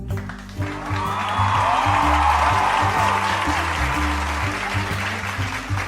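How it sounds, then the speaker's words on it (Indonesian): An audience applauds for the King and Queen finalists at a school event, a loud, sustained round of clapping over a rhythmic music bed. "Berikan tepuk tangan yang meriah"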